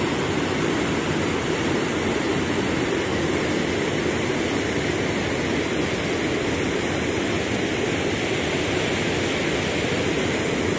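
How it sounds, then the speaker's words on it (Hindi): Water rushing through a large canal makes a loud, steady roar, broadband and unbroken, close by with no voices over it. "पानी के आप शोर सुन रहे हैं उसका साउंड, ओए होए कैसा खतरनाक"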